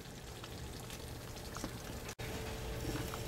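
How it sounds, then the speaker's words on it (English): A pan of pumpkin dinner vegetable mixture steams and boils on the stove, a dense, close, steady sizzling and bubbling hiss with small pops throughout and no talking. "we're getting a little bit of steaming and boiling action, so I'm turning it down to low"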